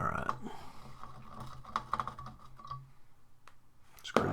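Screws being removed from the chassis of a 1935 Philco 84B radio, heard as close, quiet metallic clicks and ratcheting ticks scattered across a few seconds, with a sharper clack near the end.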